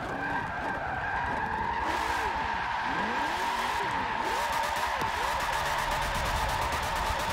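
A race car drifts sideways through a corner on the Nürburgring Nordschleife in Forza Motorsport 7. Its tires squeal in long, wavering howls over a constant engine roar that carries on loud and close.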